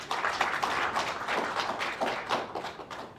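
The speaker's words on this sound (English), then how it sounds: "Can you clap for the ministry at least?" An audience claps for a government ministry at an event. The applause is a steady patter of many hands, moderately loud and continuous for a few seconds, with no talking over it.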